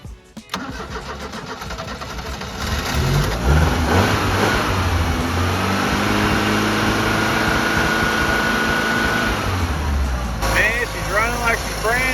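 A 1983 Plymouth Turismo engine cranks and fires after the battery is hooked up, then runs loud and steady at idle, with occasional voices and a few squeaky chirps near the end.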